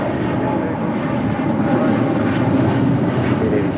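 A heavy airliner takes off from runway 25 Right at LAX, producing a loud, steady, broadband engine roar that holds evenly throughout with no break.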